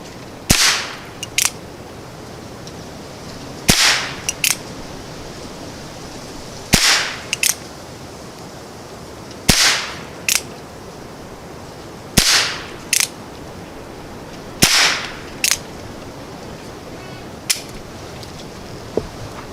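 A Traditions Rawhide revolver fires about seven sharp, loud, close shots at steady intervals of roughly two to three seconds, each crack followed by a short echo, with no talk.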